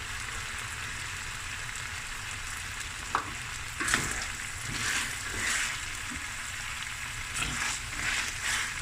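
Finely chopped carrots, snap peas and onion frying in a pan, a steady close sizzle with occasional clinks and stirring scrapes, no voices.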